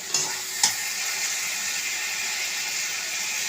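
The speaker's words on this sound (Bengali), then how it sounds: "টমেটোটা দিয়ে একটু ভালো করে নাড়াচাড়া করব।" Tomato frying in a pan gives a steady, close hiss of sizzling oil, with a couple of brief scrapes as it is stirred early on.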